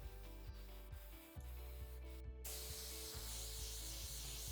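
An Iwata Highlight Total Control 1.5mm airbrush sprays colour onto chocolate bonbons, a steady close hiss that swells loud partway through, with faint rhythmic knocking underneath.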